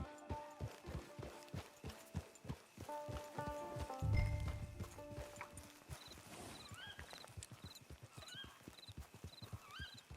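Horse hooves clip-clop in Red Dead Redemption 2, a steady walking rhythm of close, clear strikes running throughout, with a horse whinny partway and game music underneath.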